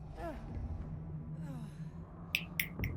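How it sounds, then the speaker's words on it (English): Ragged, heavy breathing from a Star Wars Ahsoka episode plays in short rasping breaths, followed by a few sharp bright clicks and hits near the end. "You hear that breathing?"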